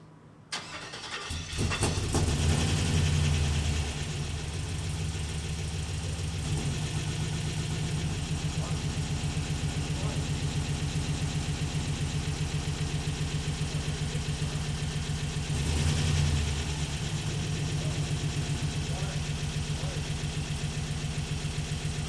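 A station wagon engine fitted with a new oil pump cranks and fires, then settles into a loud, steady idle with a brief rev midway, close and continuous.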